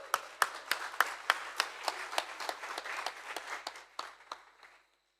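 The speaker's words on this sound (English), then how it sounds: "So a round of applause for them." Audience applause at a plain language awards ceremony, a scattering of sharp individual claps over a denser bed of clapping that thins out and stops near the end.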